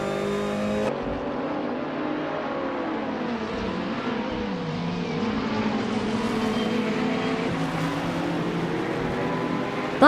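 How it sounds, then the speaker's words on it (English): A 2016 BMW M6 GT3 race car in a racing video game, its engine droning steadily at high revs with shifting pitch as it accelerates and lifts through corners, loud and continuous with no talking. "They are driving a 2016 BMW M6 GT3, which is known for its balance of power and handling."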